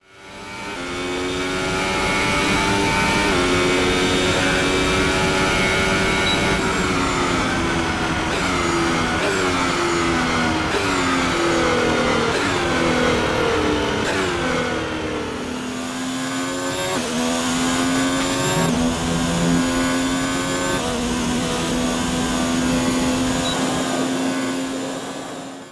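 Ferrari SF71H Formula 1 car in a Codemasters F1 racing game, its engine screaming loudly and continuously, pitch climbing and dropping through gear shifts and revs for the whole stretch, with no voices.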